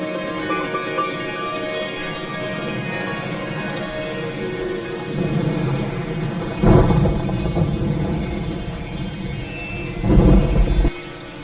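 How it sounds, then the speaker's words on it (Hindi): Light drizzling rain hisses steadily while low rumbles of thunder swell twice, the second roll louder and closer. "देखिए आ पहुंची रिमझिम बारिश की फुहारें।"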